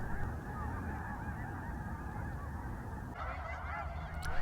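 A large flock of snow geese on the Fraser and Skagit River deltas by the Salish Sea, honking continuously in a dense overlapping chorus, steady and moderately loud throughout, growing busier toward the end.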